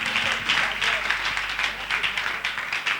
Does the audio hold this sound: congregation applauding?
yes